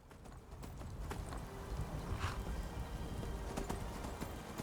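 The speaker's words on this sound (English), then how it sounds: "Helps having the ghostly horse" A ghostly horse gallops in the video game Enderal, a Skyrim mod, with steady rhythmic hoofbeats over a low rumble and a brief whinny partway through, alone with no talk.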